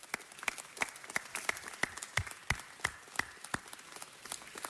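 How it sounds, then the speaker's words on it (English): Scattered applause from a small audience at a Los Angeles city council meeting, individual claps distinct and uneven, fairly faint and spaced like a modest room clapping alone. "Round of applause."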